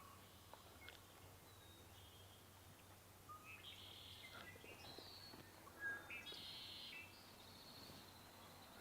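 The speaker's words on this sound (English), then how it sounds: "A few little chirps, possibly a warbler." A warbler at Sargeant Bay Provincial Park in early May gives a few faint, high chirps in short bursts against a quiet outdoor background.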